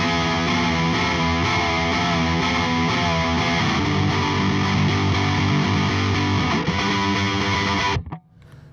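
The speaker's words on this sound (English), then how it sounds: "if we turn that off and turn the right side on, we have the fuzz." Dense, gritty electric guitar chords through a fuzz pedal play loud and steady for about eight seconds, then cut off abruptly.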